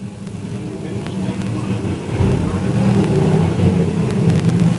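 Modified race cars roar around a dirt oval at US 36 Raceway, a continuous engine drone that swells louder midway as the pack passes, with faint announcer speech underneath.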